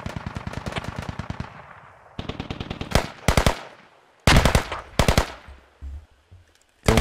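Automatic weapon fire in the military shooter game Squad, sustained rapid bursts near and loud, broken by short gaps and then several separate volleys of sharp shots.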